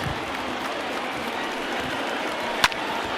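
A stadium crowd of over 36,000 in the baseball video game MLB The Show 2020 cheers as it rises during a 2-2 count, a steady broad roar of applause with one sharp crack near the end.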